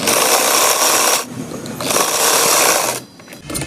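A sewing machine stitches the side seam of a peplum frock in two loud, fast bursts of whirring needle rhythm separated by short pauses.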